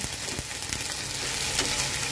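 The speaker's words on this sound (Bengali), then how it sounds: "আগে পেঁয়াজ আদা সব কিছু ভাজা হোক সুন্দর করে" Onion and ginger paste fries in hot oil for a mustard-style pabda fish curry, giving a steady, close sizzle with faint stirring clinks throughout and no talking.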